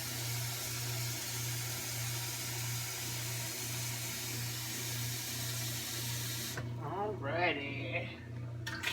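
Tap water runs steadily into a crock pot for a pinto bean slow-cooker meal, a close, even rushing with a low hum underneath, then cuts off as a voice starts talking.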